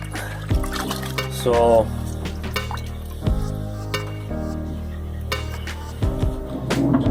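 Parts from a Cobalt Aquatics EXT aquarium canister filter are rinsed under running water, giving a steady splashing flow with louder gushes as the pieces are moved, and a voice briefly speaks.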